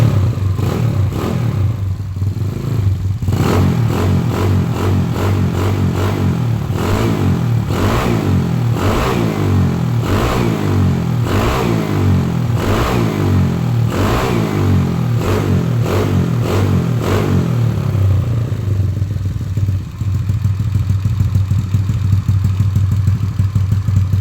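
Honda Beat carbureted scooter engine, just after carburetor and CVT tuning, starts and is revved repeatedly in loud close bursts, rising and falling, then settles to a steady idle near the end.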